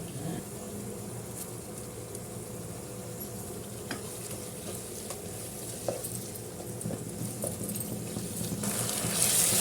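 Tomatoes and onions frying in a pan for a chicken curry, a steady close sizzle with faint stirring scrapes and small pops, growing slightly louder toward the end, with no talking.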